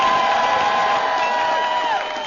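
A large crowd cheers loudly and continuously at a League of Legends esports final, a dense sustained roar with shrill whoops that fades slightly at the end.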